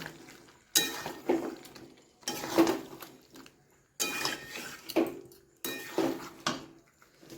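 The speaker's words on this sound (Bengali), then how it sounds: "আমি সসটা একটু একটু দিয়ে দিলাম এবার এটা ভালো করে কষিয়ে নেব" Chicken in sauce stirred in a pan for a Bengali chicken curry, four separate bursts of scraping and clinking of the utensil against the pan, each followed by a quiet pause.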